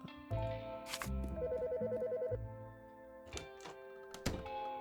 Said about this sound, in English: Still startled by the telephone ringing, Debbie returns to the office